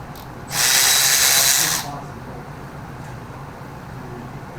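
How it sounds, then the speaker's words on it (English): A Milwaukee power ratchet runs in one steady, loud burst of about a second and a half, spinning 7/16 bolts off a 1977 Ford 351M engine during teardown, then the shop falls back to quiet background noise. "So we got a Milwaukee ratchet."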